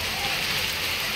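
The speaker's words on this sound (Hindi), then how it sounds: "जब भी बारिश आ रहा है ना तभी ओला जरूर गिर रहा है" Heavy rain mixed with hail falls in a dense, loud, continuous hiss and patter, with no gaps across the short stretch.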